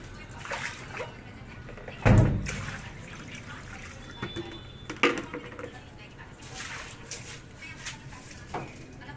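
Water splashing and running across a verandah floor during washing, with a loud splash early on and softer sloshing and drips afterward, near and under ongoing talk.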